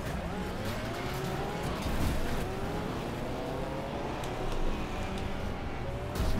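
A Ford Granada Mk2 saloon races around the Ringwood Raceway track amid other cars, its engine roaring continuously as tyres squeal and skid under hard braking, loud and close with no voices.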